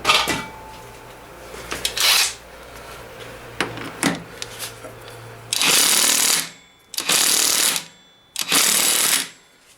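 A ratchet with a 24 mm socket tightens a nut on a Yamaha T-Max 500 scooter, heard as short bursts of ratcheting clicks, then three longer loud, rasping runs close by.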